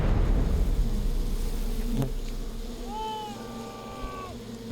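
A swarm of honeybees buzzes continuously around a man handling them bare-handed, a dense steady drone with a few higher whining tones rising briefly near the end.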